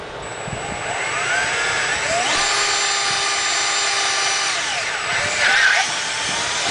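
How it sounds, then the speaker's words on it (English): A power drill bores a 1/4 inch hole in PVC, a loud, steady motor whine that climbs in pitch as it bites into the plastic, holds, then eases back down near the end. "drill. Your first hole is going to be a 1/4 inch hole."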